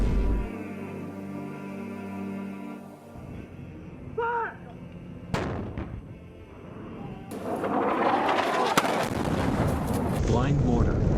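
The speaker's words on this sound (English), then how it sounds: "Blind mortar." Mortar fire and explosions in a clay-walled village in Andar district, Ghazni: sharp booms and cracks, one loud close blast followed by rumbling debris and a lasting roar of noise, with voices faintly beneath.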